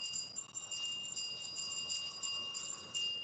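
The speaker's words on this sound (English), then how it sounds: "the bell rang" A faint school bell rings in a classroom, an unbroken high metallic tone that holds steady across the whole stretch with no one speaking over it.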